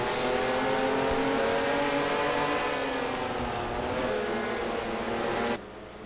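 Stock cars race in an NRSL Xfinity Series video game at the Goodys 250, engines droning steadily at high pitch as the pack flies around the track, cutting off abruptly near the end.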